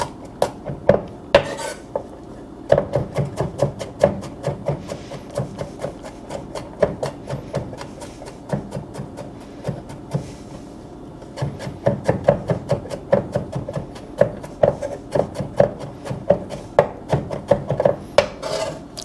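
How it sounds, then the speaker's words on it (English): A knife taps rapidly on a cutting board as it thinly slices fresh garlic cloves, giving sharp, close rhythmic chops in uneven bursts with short pauses between runs. "3 fresh cloves of garlic. Calls for minced, so I'm gonna try and get this thinly sliced"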